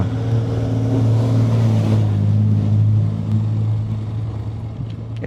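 A car descends a steep mountain road in East Sikkim using engine braking, its engine droning low and steady throughout, loud and close, with no talk.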